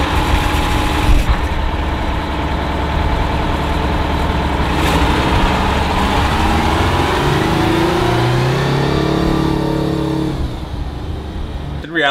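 A Detroit Diesel 12V71 two-stroke V12 diesel runs loudly and steadily throughout, with a dense, busy drone that rises and shifts in pitch toward the end before settling.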